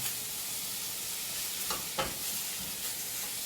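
Sliced vegan sausage discs frying in a pan, a soft steady sizzle with a couple of brief scraping strokes from a stirring utensil near the middle, close but fairly quiet, without talking.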